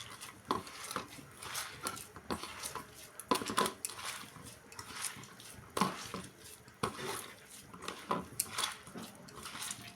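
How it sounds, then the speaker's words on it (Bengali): Spiced ingredients with a pinch of chilli powder being mixed by hand in a bowl: irregular wet squelches and soft clinks come in bursts close by, with no talk. "সব কিছু দিয়ে এখন আমি এটাকে মেখে নেব ভালো করে।"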